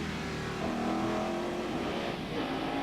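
Onboard a TVR Tuscan race car lapping a circuit in 1994 one-make racing, its engine droning loud and steady throughout with slight pitch shifts through a corner.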